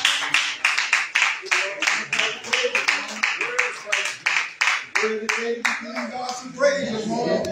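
A church congregation claps in a steady rhythm, about twenty crisp hand claps with some voices singing and speaking underneath.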